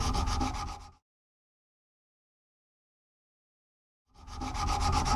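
Hand sanding with a block on the shaft of a flat-head screwdriver, brisk back-and-forth rubbing strokes close up for about a second, then silence, then the rasping strokes resume.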